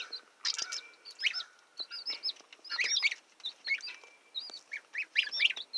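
Goslings, ducklings and chicks on a homestead peep and chirp in a steady run of high, thin calls, several birds overlapping close by with no talk.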